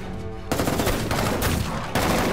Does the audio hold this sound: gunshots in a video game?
yes